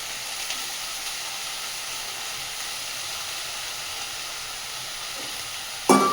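Eggplant and potatoes fry in a pan for a chili vegetable dish, making a soft, steady sizzle that ends in a brief clatter.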